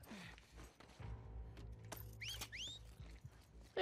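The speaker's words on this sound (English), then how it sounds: "don't be wolf whistling at me" Two quick, sweeping wolf whistles from a character in the video game The Last of Us Part II sound over quiet in-game background noise.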